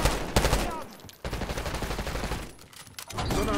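Gunfire from a Call of Duty Black Ops 6 multiplayer match comes in loud, dense bursts of automatic shots, with a brief lull partway through before the shooting picks up again.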